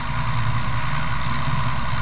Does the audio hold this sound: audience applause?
no